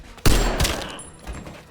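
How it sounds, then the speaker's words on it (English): Gunfire in a movie scene: a loud close shot bursts out, quickly followed by a second blast and a fainter later report, each trailing into a short echoing decay. "but Cha Tai-shik also shoots him."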